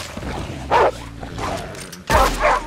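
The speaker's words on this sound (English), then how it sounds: "I hear like dogs or wolves?" Dogs or wolves in the video game Red Dead Redemption 2 give several short yelping barks and whines in bursts, fairly close and loud, with quiet pauses between.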